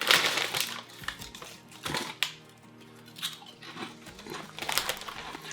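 Lay's Nashville Hot Chicken flavored potato chips crunch loudly between the teeth, in close, rapid bursts of brittle crackling, alone without talk.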